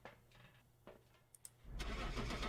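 A car engine in the Phasmophobia game cranks and catches around the midpoint, then settles into a loud, steady idle rumble with a hissy top. A few faint clicks and knocks come before it, and nobody speaks.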